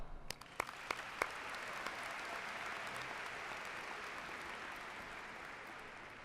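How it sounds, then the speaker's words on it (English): A few scattered, sharp claps quickly swell into sustained applause from a large crowd at the Phoebus High School graduation, a soft, even roar that holds steady throughout. "Please join me in applause for them."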